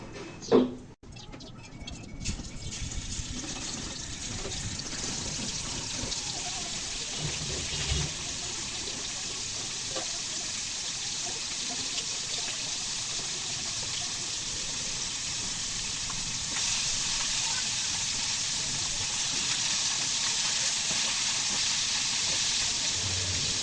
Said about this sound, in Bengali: মাছগুলো মেখে রেখেছিলাম, এখন সুন্দর করে লাল লাল করে ভেজে নেব।